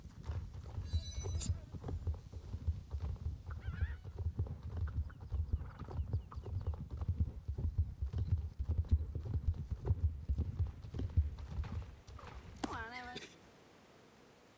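In a video game, a ridden horse's hooves clip-clop in a steady, even rhythm for about twelve seconds before the horse gives a short whinny and the hoofbeats stop.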